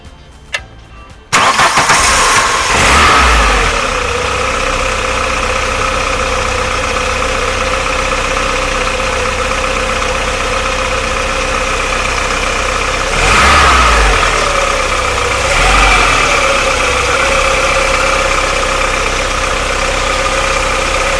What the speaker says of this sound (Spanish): ahora vamos a probar a arrancar el coche, a ver qué tal